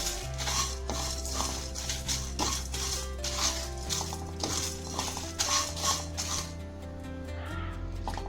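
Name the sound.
spices being dry-roasted and stirred in a hot wok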